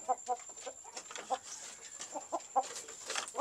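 Chickens cluck softly in short, scattered bursts at close range, with a faint steady hum in the background.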